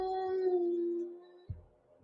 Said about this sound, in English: he swears he still hears that same howl, echoing in the distance